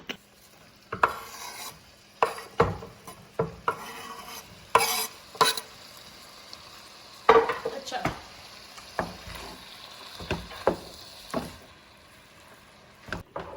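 Onions are stirred in a frying pan, with about a dozen separate scraping, rasping strokes of a utensil over a soft, close sizzle.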